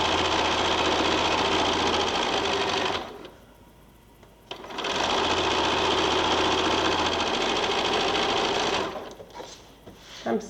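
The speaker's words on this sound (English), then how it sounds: "I'm sewing a little bit wonky today" A sewing machine stitches quilt blocks in long, steady, loud runs of rapid whirring, with a brief pause in the middle and a slowdown at the end.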